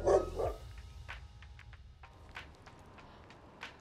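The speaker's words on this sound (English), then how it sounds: "Mr. Andy's Link's dog is so cute." A small dog gives a couple of quick barks near at the start, followed by faint scattered clicks and quiet room noise.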